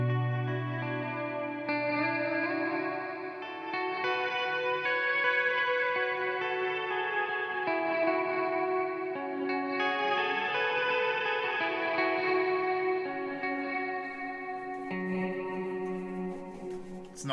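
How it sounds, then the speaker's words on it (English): Sustained guitar chords with lush, washing reverb from a Dr Scientist Bitquest pedal, notes blending into a long spacious tail, fairly quiet and steady with no voices. "Nice reverb in it."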